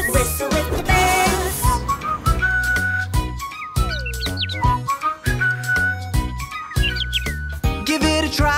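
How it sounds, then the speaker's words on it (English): Cartoon-style bird chirps and whistled tweets sound in a bright, repeating melodic pattern over a steady musical backing, with no talking. "Soon we'll hear them tweet, tweet, tweet."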